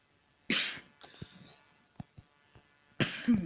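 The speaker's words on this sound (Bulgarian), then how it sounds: "Да, напълно ще кашлям, защото съм болен" Two harsh, close coughs, one near the start and another near the end, separated by small clicks and faint noises in a quiet room.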